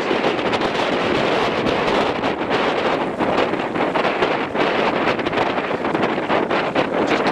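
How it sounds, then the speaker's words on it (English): A gale-force wind blows outdoors, roaring loudly and steadily across the microphone with gusty surges and no talking. "it's just blowing a gale"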